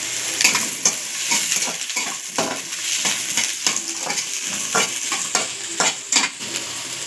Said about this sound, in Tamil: போட்டு கொஞ்சம் வதக்கிக்கலாம்